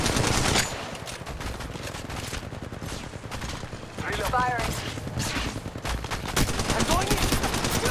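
Rapid bursts of automatic gunfire crackle in the Apex Legends Mobile battle royale game, dense and continuous with a few louder volleys, mixed with game sound effects and a voice calling out over the shooting.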